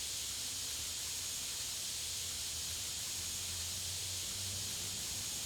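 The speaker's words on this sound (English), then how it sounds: "Tools, compressed air. Let's dust this monster." Steady compressed-air spray dusting out a PC inside PC Building Simulator 2, a faint, continuous broadband hiss running unbroken and alone with no talk over it.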